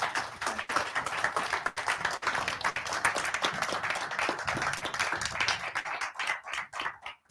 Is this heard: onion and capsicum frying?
no